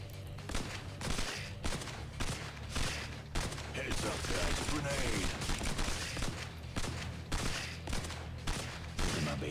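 Rapid bursts of gunfire from a mobile tank game crackle and thump in quick succession, loud and close, with rhythmic gaps between volleys and no voices.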